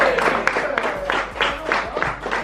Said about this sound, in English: clap them up, clap them up